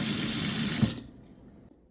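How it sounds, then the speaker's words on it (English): Water runs steadily from a sink faucet after a water heater tank is refilled, a loud rushing stream that stops abruptly about halfway through and leaves a faint fading trickle. "water is coming out of the sink properly and not sputtering"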